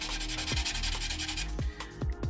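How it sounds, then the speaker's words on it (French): A buffing block rubs across a fingernail to smooth its surface, making close, soft rhythmic swishing strokes in quick succession with no talking. "Maintenant je vais utiliser le bloc pour pouvoir lisser la surface de l'ongle."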